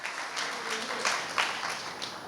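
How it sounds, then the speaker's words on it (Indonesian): A congregation at a Sunday worship service in Bekasi, Indonesia, claps for God in a steady wash of applause with scattered sharper claps, fairly distant and soft. "Tepuk tangan buat Tuhan kita"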